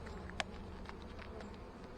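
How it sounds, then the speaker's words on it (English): Honeybees at the hive make a faint, steady hum under outdoor background noise, with a brief sharper tick near the start and no voices. "Look at all these bees, Grady."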